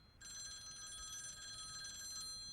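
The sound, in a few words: telephone ringing, from a cartoon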